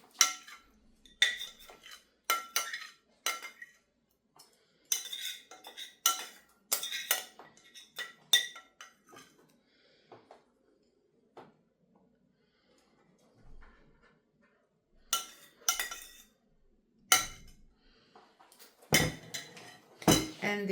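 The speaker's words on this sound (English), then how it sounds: "I'm using a spoon to collect the rest of it." A metal spoon scrapes and clinks around a bowl, gathering leftover banana bread brownie batter in a series of sharp, close scraping strokes, with quiet pauses between bursts.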